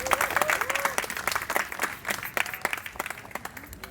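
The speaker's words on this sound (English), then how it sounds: "May I ask you to join me in another round of applause for Virginia Dia Mutiara." An audience at a Baisakhi program claps in a steady burst of applause, with crisp individual claps and a faint tonal whistle or voice in the background.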